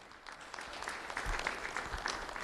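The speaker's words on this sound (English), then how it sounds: "Round of applause for Alejandra." Applause at a sheriff's office award ceremony honouring an elementary school student, a steady wash of clapping at moderate level that swells slightly midway.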